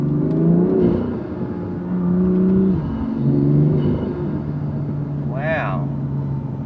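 A BMW M2 with a loud intake revs in several rising and falling pulls, a droning engine tone close by, while people talk over it.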